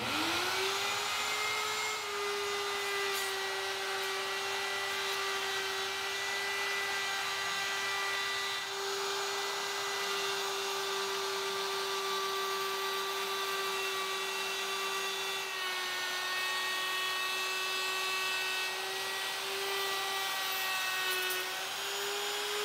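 A wood router runs continuously as it makes a pass along the edge of a table top to cut a taper, giving a loud, steady, high whine with little change and no talk.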